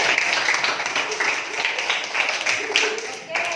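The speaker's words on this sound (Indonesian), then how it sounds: "Pintar semuanya, ayo tepuk tangan." Schoolchildren in a classroom clap their hands together in a lively, slightly uneven burst that keeps going, with a few voices rising over it near the end.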